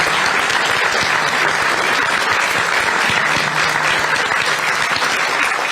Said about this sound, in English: how about a round of applause for all that?